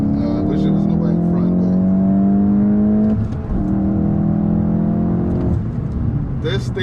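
A 2024 VW GTI 380 Edition drops a gear and pulls hard, its engine note rising in a loud, steady climb, dipping briefly at the shift before surging again.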